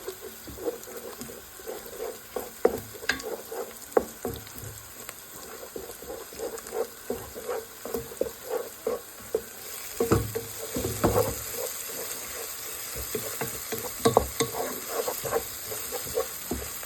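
An egg sizzles and crackles steadily in a hot pan for cheese kottu, with frequent scraping stir strokes and clicks of the utensil throughout, close and fairly loud with no talking.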